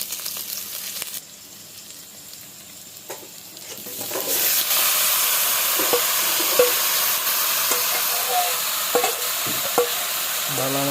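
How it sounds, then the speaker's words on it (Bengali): Onions fry in hot oil, starting as a quieter bubbling before the sizzle swells into a loud, steady hiss with occasional clinks of stirring, close and without talk. "তেল গরম হইতে না হইতে পেঁয়াজ ছাড়া দেওয়া গেছে পেঁয়াজ মোটামুটি হয়ে গেছে"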